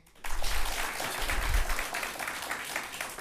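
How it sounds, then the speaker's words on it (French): University health-sciences students applaud in a hall, a dense burst of clapping that swells quickly and carries on steadily, moderately loud and without speech. "vous entendez ces retentissants applaudissements, ce sont ceux des étudiants de l'Université moderne des sciences de la santé"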